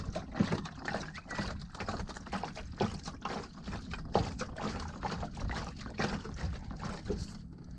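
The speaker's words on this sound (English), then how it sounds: "You can hear in the door actually still has water" Water sloshing and trickling inside a truck door panel with the trim removed, a steady busy rush of liquid movement with irregular knocks and splashes, close and fairly quiet throughout.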